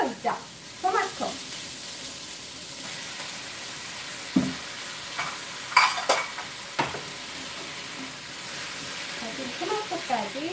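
Chopped tomato and green onion hit a hot pan for a mussel kimchi stew, a low sizzle running under spoken instructions, broken by a few utensil clinks and stirring scrapes.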